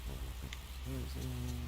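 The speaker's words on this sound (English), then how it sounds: "You can hear a soft drizzle falling outside." Soft, steady drizzle falls outside in Fatal Frame III: The Tormented, a faint even hiss with a low hum and a few brief tones beneath it.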